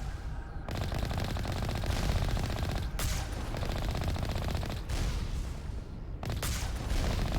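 Rapid automatic gunfire from the video game Mass Effect Legendary Edition, loud dense bursts broken by brief pauses and a few heavier booms.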